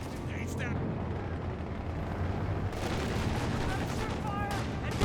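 Rattling machine gun bursts from Company of Heroes 2 over a thick wall of wartime battle noise, with a sharper crackling surge partway through and steady loud din throughout.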